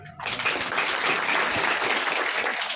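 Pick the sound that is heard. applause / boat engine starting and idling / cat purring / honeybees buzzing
applause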